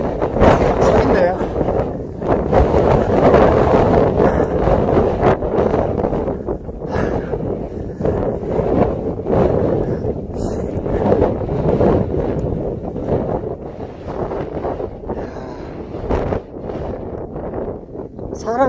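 Strong wind roars and buffets the microphone throughout a rainstorm on Sobaeksan mountain, with loud continuous gusting that rises and falls and a person speaking now and then under it.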